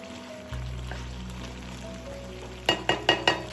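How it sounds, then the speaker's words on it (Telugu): Curry with ground pepper simmers in a pan with a steady low bubbling sizzle, followed near the end by four quick knocks of a spoon against the pan. "బాగా కలిపి 5 నిమిషాల సేపు ఉడికించాలి"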